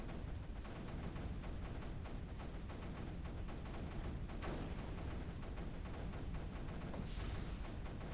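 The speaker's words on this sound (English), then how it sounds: "Another mortar." Mortar fire in the strategy video game Creeper World 3, a dense, steady barrage of booming shots and crackle filling the whole stretch at constant loudness, with no talk over it.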